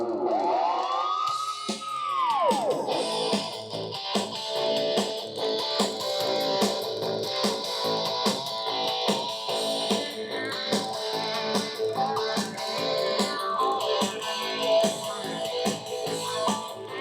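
CD audio music playing under DOS through an optical disc emulator, a steady, full-bodied track with layered tones, and a brief rising-and-falling swoop near the start.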